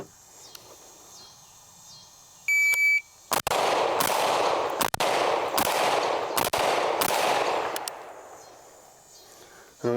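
A shot timer gives a steady electronic beep, then a handgun fires five or six sharp, loud shots in quick succession during target transition drills, each crack trailing into echoing reverberation.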